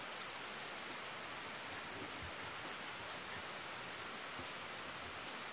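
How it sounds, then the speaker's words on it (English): Heavy rain pours outside in a dense, steady hiss that never lets up, with faint scattered drips and patters standing out. No one speaks. "It's really raining hard."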